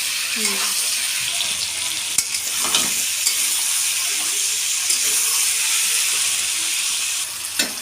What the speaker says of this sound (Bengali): বুলি বুলি পেঁয়াজ আর কাঁচা লঙ্কা দিচ্ছি দিয়ে আর একটু কষিয়ে নেবে